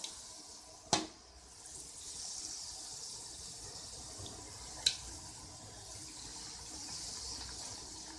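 Malpua batter fries in hot ghee with a steady, even sizzling hiss that runs throughout, close and moderate, broken by two sharp clicks from utensils.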